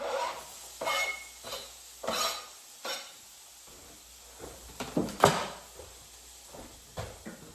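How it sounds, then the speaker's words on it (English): Onions and peppers for a Philly cheesesteak hiss faintly in a pan, while a spatula stirs and scrapes them in several separate strokes, close by, with a low background hum. "We're gonna throw down these onions and peppers."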